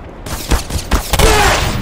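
Rapid gunfire from the Black Mesa video game: several loud, sharp shots in close succession, then a sustained burst of weapon fire and noise, with no talking.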